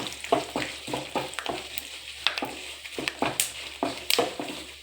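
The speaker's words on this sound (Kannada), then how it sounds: "ಕಡಲೆ ಬೀಜ ಸ್ವಲ್ಪ ಫ್ರೈ ಆಗಬೇಕು" Peanuts frying in oil in a pan, steady sizzling with a rhythmic series of spatula strokes scraping and stirring through them, close and moderately loud, with no voices.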